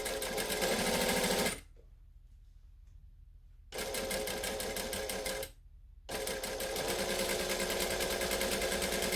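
A domestic sewing machine chain stitching a Butterick B6764 garment runs in steady bursts, a loud continuous whir interrupted by two brief pauses before resuming.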